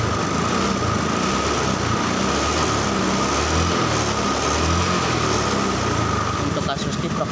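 A carbureted Honda Scoopy motor scooter engine idles steadily and loudly throughout, a constant buzzing hum with a faint voice underneath.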